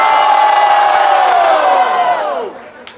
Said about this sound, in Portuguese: Barulho pra quem gostou das rimas de Menor R